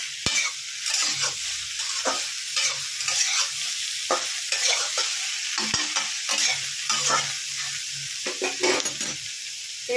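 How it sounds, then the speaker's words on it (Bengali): Ground cumin paste stirred into frying potatoes, green banana and eggplant in a pan: a continuous gentle sizzle broken by rhythmic scraping strokes of a spatula against the pan, close and steady, with no talking. "সেই জিরেটা দিয়ে দিলাম, দিয়ে একটু নাড়াচাড়া করে নিচ্ছি"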